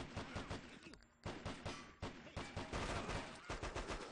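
Rapid pistol gunshots in the video game Hitman, a dense run of sharp, loud bursts firing almost continuously with only a brief pause, close and dominant.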